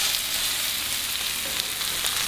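Four chicken pieces for teriyaki frying in a hot pan over medium heat, a steady close hiss of sizzling oil with no talk.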